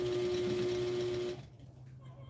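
A sewing machine stitches fabric, its motor humming steadily with a fast needle rhythm close by for over a second before stopping abruptly, leaving quiet room noise.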